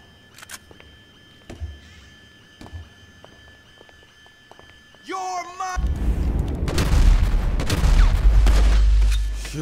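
Gunfire in GTA 5 on PC: scattered sharp clicks and single shots at first, a brief squealing electronic chirp, then a loud, dense stretch of rapid shooting and booming impacts that builds to the end.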